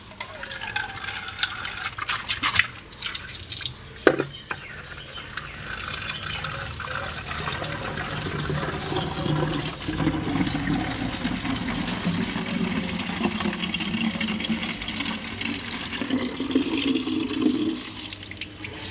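Water runs steadily from a tap into plastic bottles as they are filled one after another, a continuous splashing hiss with a faint engine idling in the background and no talk.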